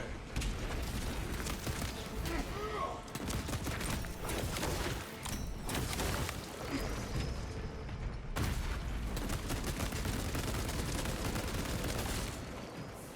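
Heavy bolter fire from Space Marine 2 rattles in dense, sustained bursts against a Tyranid swarm, loud and continuous with booming impacts and a brief gap mid-way, with no talk over it.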